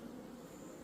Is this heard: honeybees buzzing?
yes